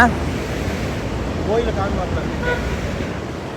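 Water rushing down a waterfall at Kanthalloor near Munnar, Kerala, heard as a steady, broad roar from a moderate distance, continuous throughout, with faint voices in the background.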